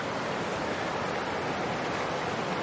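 Creek water rushes steadily at a hiking-trail creek crossing, a loud, dense, continuous roar close by with no talking.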